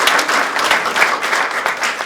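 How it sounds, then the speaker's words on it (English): An audience at an evening caregiver education event applauds community doctors, a loud, dense, sustained burst of clapping from a crowd that fills the whole stretch. "they deserve a round of applause"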